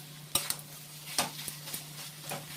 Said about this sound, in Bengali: মশলার সাথে ভালো করে একদম নাড়াচাড়া করে একদম কষিয়ে নিতে হবে